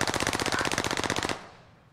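An SMG in a video game fires a rapid, loud burst of about twenty evenly spaced rounds, then cuts off abruptly and leaves a fading echo tail.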